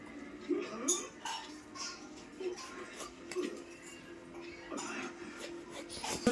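A knife slices an eggplant into thick round pieces on a board, giving a few sharp clacks and light clinks spaced irregularly, with a voice talking softly over them.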